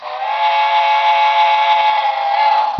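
Steam whistle of a Broadway Limited Imports Paragon 2 Series USRA Light 2-8-2 Mikado model locomotive, sounding as a single loud, sustained chord. It holds steady for about three seconds with no talking.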